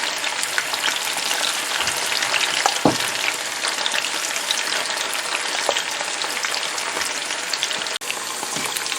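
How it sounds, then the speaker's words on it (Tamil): Chicken 65 pieces deep-frying in hot oil for fried rice, a dense, steady crackling sizzle with scattered louder pops and occasional stirring knocks, close and continuous with no voices. "இந்த சிக்கன் எல்லாம் நல்லா பொரிஞ்சிட்டுது"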